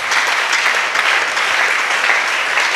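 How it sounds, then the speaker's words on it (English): A church congregation claps hands for Jesus Christ in steady, dense applause that fills the room evenly and stays loud throughout, with no voices standing out above it. "Clap your hands for Jesus Christ"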